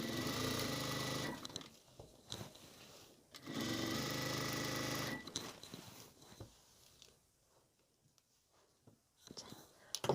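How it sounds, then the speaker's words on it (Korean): Sewing machine stitching fabric for a lace and frill waist apron, two loud runs of rapid whirring, each about two seconds long, followed by quieter handling noises and soft speech. "위에 부분만 한번 쭉 박음질 해줍니다"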